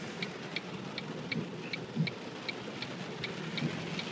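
Steady rain falling outdoors, a constant dense hiss with faint regular ticking drops repeating through the clip, even and moderately loud with no voices.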